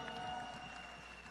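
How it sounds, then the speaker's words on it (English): Audience applause at a stage event, a steady wash of clapping from a crowd, faint and somewhat distant, continuous throughout. "huge round of applause"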